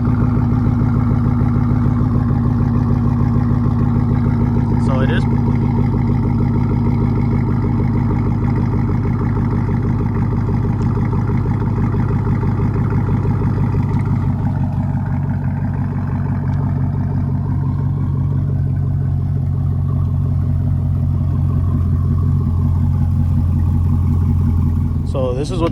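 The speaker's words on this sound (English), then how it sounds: "So this is what the truck sounds like idling, warm idle." A crew cab cateye truck with an LQ9 V8 swap and bullet mufflers idles warm, a steady deep exhaust rumble running throughout at close range with no talking.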